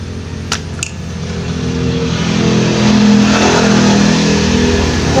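A Honda Astrea 125cc motorcycle engine fitted with a Honda Blade cylinder head and stiff valve springs revs up from idle into a loud, sustained, buzzing drone after a couple of short clicks.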